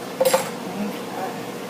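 Spoon clattering against a pot while diced and crushed tomatoes are stirred into a lasagna meat mixture; a few quick metallic clinks near the start, then soft scraping and sloshing, close and fairly quiet.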